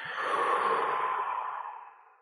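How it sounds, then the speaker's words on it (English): A deep exhale during a breathing exercise, one long, close, breathy rush of air that swells and then slowly fades away, with no talking. "breathing out"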